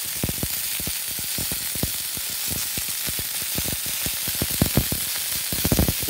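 Sausage links sizzle steadily in a hot pan, a loud continuous crackling hiss dotted with rapid popping spatters throughout, close up, with no talking.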